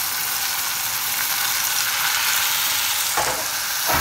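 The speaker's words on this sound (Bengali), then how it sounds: "তো আমি এখন মশলাটা ভালো করে কষিয়ে নিচ্ছি।" Spice paste stir-fried in a pan for a hilsa fish roe curry: a loud, constant sizzle close at hand, with a couple of scraping stirs near the end and no voices.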